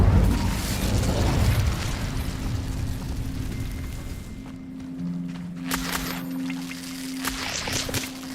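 Incendio fire spell cast in Hogwarts Legacy: a loud, broad whooshing burst of flame for the first couple of seconds, fading into a quieter crackling tail with a steady low hum and a few faint sharp clicks.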